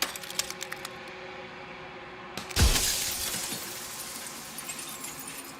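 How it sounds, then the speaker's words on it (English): A mirror in the video game Slay the Princess cracks and then bursts into jagged glass shards with one sudden loud shatter. A tinkling, scattering tail follows over a quiet, faintly rattling background. "another crack forms in another, turning the mirror into jagged shards of broken glass"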